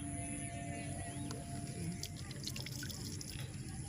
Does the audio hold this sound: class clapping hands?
no